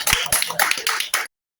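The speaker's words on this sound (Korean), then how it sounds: "자, 박수 한번." An audience claps during an interview about a Democratic Party movement, a brisk, close burst of hand claps lasting about a second before cutting to silence, then briefly resuming.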